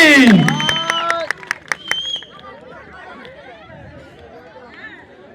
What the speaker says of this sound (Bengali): একটা বড় করে হাততালি।